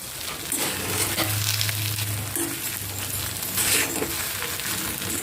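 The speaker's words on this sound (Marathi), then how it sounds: "याला एक दोन मिनिट फक्त आपल्याला परतवून घ्यायचं आहे" Vegetable filling for dosa sizzles steadily in a pan, with a close, continuous frying hiss and intermittent spatula scrapes and light metallic clinks throughout.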